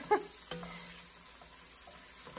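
Onions and peppers sizzle softly in a pan, a faint low crackle with a couple of brief knocks near the start.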